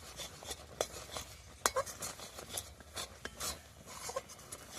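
Semolina stirred over low heat in a pan while making carrot sweet, soft irregular scraping and rubbing strokes with occasional sharper clicks of the utensil against the pan, quiet and close, no voices.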